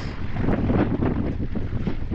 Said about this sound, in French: Il y a un peu plus de vent